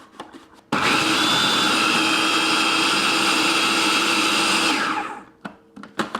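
A food processor blitzes cauliflower into low-carb couscous: a loud, steady whirring roar starts abruptly, runs for about four seconds, then winds down, with quiet clatter before and after.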